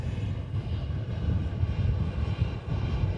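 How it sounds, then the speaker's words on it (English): A Virgin Atlantic Airbus A330-300 airliner taxis out to the runway at Manchester Airport, its engines giving a steady, moderately loud low rumble and whine with no voices over it. "Virgin Atlantic A330 300 on the taxi out"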